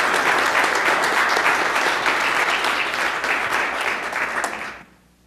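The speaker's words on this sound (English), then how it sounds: "All right, one more round of applause" Sustained audience applause in a city council chamber, a full room clapping steadily and loudly before fading out at the end.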